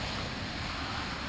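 An RS-25E rocket engine test fire sends water deluge spray cascading into the flame trench, heard as a steady, dense, broadband roar that rumbles on without pause, distant and uniform, with no voices.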